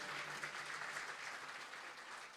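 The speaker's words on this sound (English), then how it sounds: "Give them a round of applause, everybody." An anniversary yagna audience applauds its musicians, a steady wash of clapping from a crowd heard at moderate distance and fairly faint.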